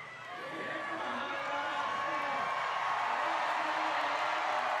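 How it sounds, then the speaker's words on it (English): A strongman event crowd at the 2021 Rogue Invitational yoke and log contest cheers, a broad steady roar building in the first second and holding loud and sustained, with an announcer's voice faintly underneath. "Big cheer from the crowd"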